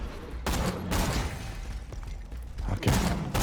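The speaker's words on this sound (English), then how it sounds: "Explosions." Explosions and gunfire in the video game Borderlands 2, a dense run of booming blasts and rattling shots that stays loud throughout, with heavy bursts near the start and again near the end.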